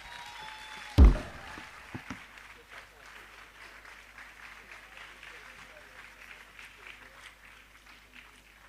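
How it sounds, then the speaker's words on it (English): An audience at a pharmacy graduation and induction ceremony claps in a soft, sustained patter after one sharp bang, while a voice speaks over the applause. "Please, another big round of applause for the student."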